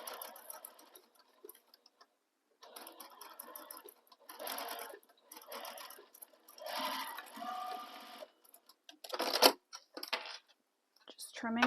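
A sewing machine stitches the seam of a fabric sling bag in several bursts of rapid mechanical whirring, close and fairly loud, with brief pauses between runs.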